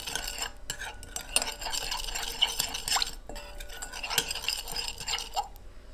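A spoon scrapes and clinks steadily against a bowl while salt is mixed into a chicken marinade, a continuous close stirring with small metallic ticks and no voices.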